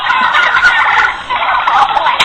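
A turkey gobbles loudly and close by in a rapid, warbling burst that runs for about two seconds.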